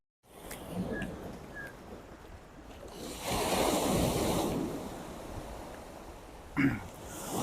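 Sea waves wash onto the Mumbai seashore near Chaityabhoomi, a soft, continuous surf that swells and recedes over gusty wind buffeting the microphone, with one sharper knock near the end.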